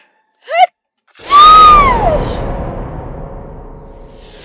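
A single sharp sneeze, preceded by a short quick breath intake, then a brief airy trailing tone fading out, close and loud in an otherwise quiet space.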